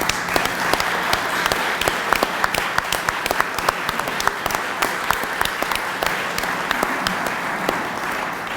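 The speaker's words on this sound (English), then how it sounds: "I think we need a round of applause." Audience applause at a courthouse courtroom dedication event, sustained steady clapping from many people with distinct sharp nearby claps standing out over the crowd wash, continuing for the full stretch.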